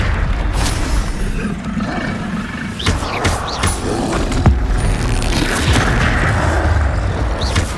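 Confringo blast spells exploding in the Hogwarts Legacy video game, a run of sharp booming impacts with crackling bursts over a rumbling game soundscape, close and loud.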